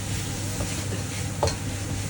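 Onion and scallion sizzle hard in a hot pan for a lobster and shrimp curry, a dense continuous hiss up close with one brief stirring scrape midway.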